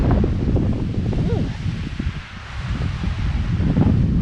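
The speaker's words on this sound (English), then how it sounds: "Here comes the wind." Wind gusts across a mountain summit, a loud, rumbling buffet against the microphone that swells and eases over a few seconds, with faint rustling underneath.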